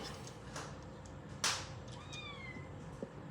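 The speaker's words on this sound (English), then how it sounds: "You can hear one of our kitty cats out here. It wants to come inside so bad." A young cat meows outdoors near a grill over an oak fire, a few drawn-out cries spaced across a quiet background with one sharp knock midway.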